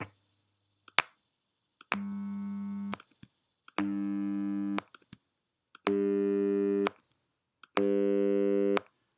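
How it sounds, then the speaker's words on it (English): A synthetic buzzy robotic voice made in Praat sounds four sustained tones in a steady rhythm, changing vowels, each about a second long and separated by short gaps, after a single click. "note that the robot voice, you can think of it as the robot sort of changing vowels"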